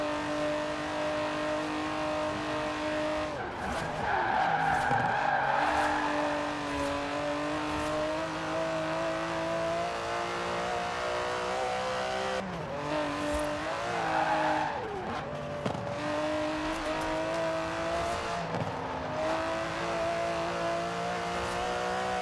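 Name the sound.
Aston Martin DB11 car driving in video game Forza Horizon 4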